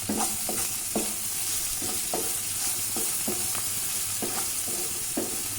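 Chopped onion with salt frying in a pan for a taro-leaf thoran curry, a steady bright sizzle broken by regular scraping strokes of a spoon stirring, close and continuous with no talk.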